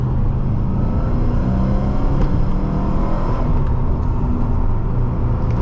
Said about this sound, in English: And you can hear just how subtle the ANSA exhaust is.